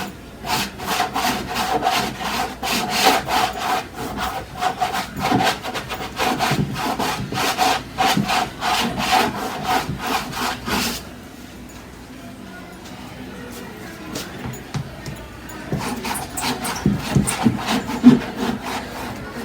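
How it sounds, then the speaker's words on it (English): Bowl scraper dragged across cold wax on a floral painting, giving repeated rhythmic scraping strokes that are close and fairly loud, then a quieter pause before the strokes pick up again. "I'm going to try my bowl scraper. See if I can get better coverage."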